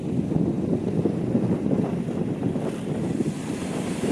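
Sea waves and wind at Marina Beach in Pondicherry, a steady roar of surf with wind buffeting the microphone, continuous and fairly loud with no voices.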